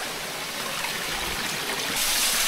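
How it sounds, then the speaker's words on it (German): A mountain stream in the Basque Country rushes and burbles steadily close by, a continuous broadband wash of water that swells slightly louder toward the end, with no voices. "hier ist ein Bach"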